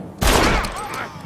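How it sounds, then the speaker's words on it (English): A single sharp gunshot in the Western video game Red Dead Redemption, a loud close crack followed by a ringing, echoing tail that fades over about a second. "Marvelous shot, dear boy."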